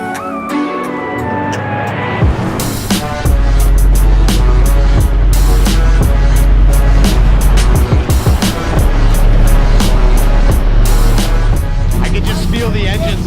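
Four Mercury 400-horsepower race engines on a custom V53 yacht spool up from a low idle into a loud, dense roar with rapid rattling pulses, staying powerful and close throughout.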